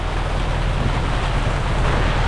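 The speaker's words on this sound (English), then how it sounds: "Blowing 30 knots." A 30-knot wind blasts across a sailboat in a violent squall, a loud, unbroken roaring rush with low buffeting rumble, constant from start to end and no one speaking.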